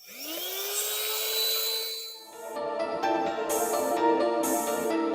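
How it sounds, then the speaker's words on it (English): Vacuum cleaner working inside the interior of a 2022 Cadillac XT5 Premium Luxury, motor whining up to a steady pitch, dipping briefly, then a rougher, fluttering suction as the nozzle moves over surfaces, loud and close, no talk. "let me vacuum the car out"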